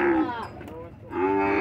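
A calf moos twice at a cattle fair in Cipó, Bahia, each a loud, close, drawn-out bovine call separated by a short pause.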